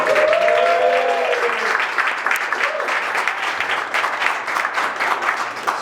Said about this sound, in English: So everyone, a hand of applause for Chin Hua.